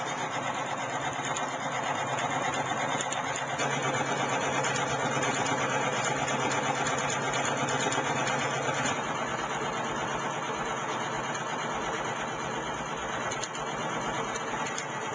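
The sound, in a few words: fuelless magnet motor generator running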